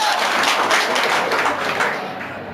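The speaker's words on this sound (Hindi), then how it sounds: "बहुत बढ़िया, तालियां इसके लिए।" Classroom applause breaks out for a student's correct answer, a loud burst of many hands clapping together that gradually thins and fades.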